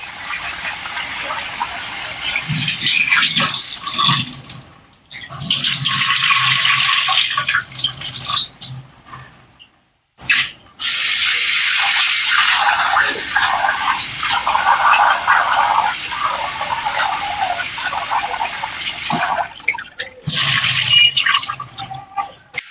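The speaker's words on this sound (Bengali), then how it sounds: "এই চালটাকে আমি এবার ধুয়ে নেব আমি দু তিনবার জল পাল্টে পাল্টে এটাকে তুলে নেবে" Rice being washed in a bowl, the water changed two or three times, heard as loud sustained running and pouring water from a tap with brief pauses, close and filling the space.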